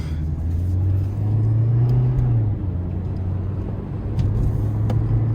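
A cheap used car's engine hums steadily from inside the cabin on a test drive at a dealer auto auction, with a low drone that rises and dips as the car shifts and gathers speed.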